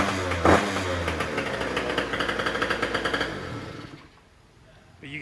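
A tuned scooter engine running on race gas, loud and close, with a rapid popping idle and blips of revving indoors before it cuts off and quiets, then restarts briefly at the end.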